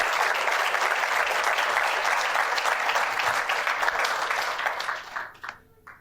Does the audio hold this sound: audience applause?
yes